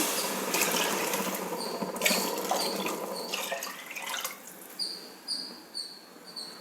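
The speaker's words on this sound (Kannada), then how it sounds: "ಆ ಬಟ್ಲಲ್ಲಿ ನಾಲ್ಕು ಬಟ್ಲಷ್ಟು ನೀರು ಹಾಕ್ತೀನಿ" Water is poured over rice in a pot for khichdi, a steady close splashing pour that fades into lighter trickles, with faint high chirps near the end.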